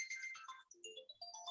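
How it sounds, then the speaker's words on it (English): An incoming call's phone ringtone plays as a bright electronic melody of quick stepping notes, moderately quiet and close, with no voices over it. "someone's calling me, and I'm turning off the phone."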